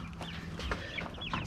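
Young chicks let out of their coop cluck and cheep in a chorus of short, overlapping calls, close and fairly quiet, with no talking.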